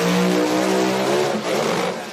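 A Pro Mod drag race car at an IHRA Outlaw Pro Mod Nationals qualifying run roars loudly at high revs with a strong harmonic engine note, then the pitch climbs and wavers as the engine freewheels after a driveline failure or slipping out of gear.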